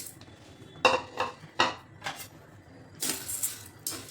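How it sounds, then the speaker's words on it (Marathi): Wheat grains being dry-roasted in a pan, heard as a series of sharp metallic scrapes and clinks of a spoon against the pan, spaced irregularly and fairly quiet, with no sizzle. "गहू भाजून घ्यायचे."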